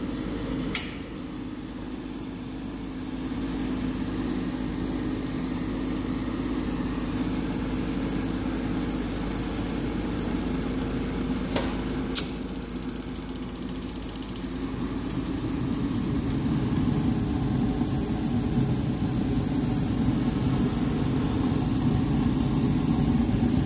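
Freshly started engine idling with a rattly, mechanical clatter, a steady mid-volume drone broken by a couple of sharp clicks, growing slightly louder toward the end, no speech.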